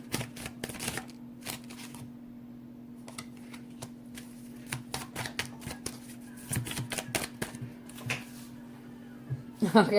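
Tarot cards are shuffled nearby in quick, uneven bursts of riffling and flicking over a steady low hum, with a louder clatter at the end.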